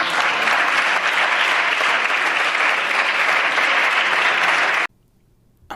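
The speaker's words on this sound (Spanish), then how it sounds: "Aplausos recibe la gran intelectual" Loud, dense applause from a large crowd, a continuous roar of clapping that runs for nearly five seconds and then cuts off abruptly into near silence.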